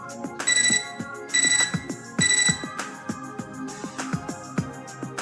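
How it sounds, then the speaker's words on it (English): Computer terminal in the Fate/EXTRA video game beeping: three bright repeated chiming bursts in a rhythmic pattern, heard over soft background music with plucked notes continuing after. "I startled out of my silent contemplation by a beeping sound from my computer terminal."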